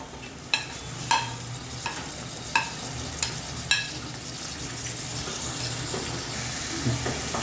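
Tomatoes frying in a pan with onion, ginger and garlic for prawn pulao, a steady sizzle broken by several sharp scrapes of a spoon stirring, close and alone without talk.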